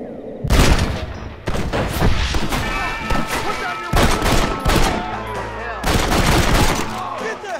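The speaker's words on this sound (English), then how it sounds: "I have to use the pistol." Pistol gunfire in the Red Dead Redemption video game, heard as several loud, sharp bursts of shots separated by brief pauses, with some background game sound between them.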